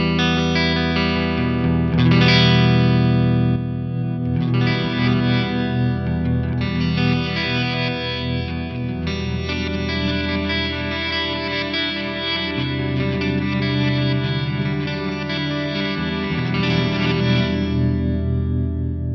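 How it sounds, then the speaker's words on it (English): An electric guitar plays sustained, distorted chords drenched in a swelling effect, notes blooming in and trailing off with a backward, smeared quality. "It kind of sounds like a reverse delay or a reverse reverb"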